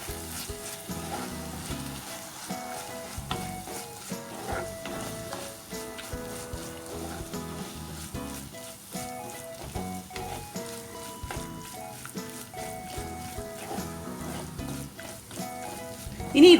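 Kashmiri chili powder being stirred and fried into crab roast masala, a dense continuous sizzle under repeated scraping and clattering from a spoon working the pan, loud and close throughout.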